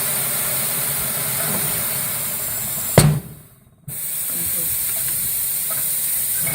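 A foot-pedal pneumatic bead breaker on a tire machine fires with a sharp pneumatic bang and hiss, then a brief dip and release, over a steady compressor-like hiss that runs through the whole clip.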